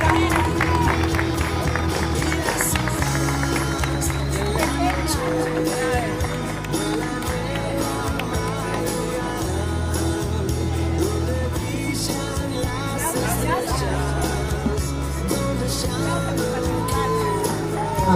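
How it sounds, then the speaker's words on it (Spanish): Crowd applause at a patriotic marathon awards ceremony in Villa Ángela: steady, dense clapping with scattered cheers and whoops, mixed with music and voices throughout. "Aplausos."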